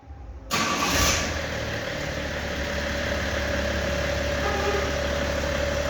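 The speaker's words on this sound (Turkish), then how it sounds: "Arabayı çalıştırıyorsun." A car engine cranks and catches, then settles into a steady, loud idle that holds to the end, with no talk over it.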